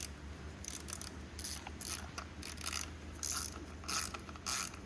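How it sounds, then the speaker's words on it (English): A hand ratchet clicks in quick, steady bursts as it tightens the ignition cover bolts on a 2023 Yamaha YZ250F dirt bike, close up over a constant low background hum. "Get your ratchet out, flip it back over."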